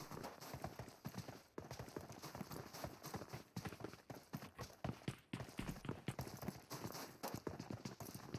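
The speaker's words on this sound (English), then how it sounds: "And now Shadow hears footsteps" Rapid clip-clopping footsteps of a horse running in a video game, a dense continuous patter of hoofbeats, fairly loud and steady throughout.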